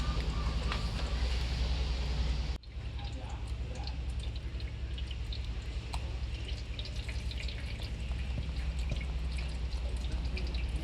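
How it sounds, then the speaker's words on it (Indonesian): Water is poured through a strainer onto passion fruit pulp in a home kitchen, a steady dense splashing and trickling stream that continues throughout, loud and close, after a brief sharp break early on. "ini setelah dituang airnya, tuh airnya udah langsung turun ya guys"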